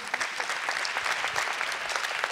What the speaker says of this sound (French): On applaudit en attendant.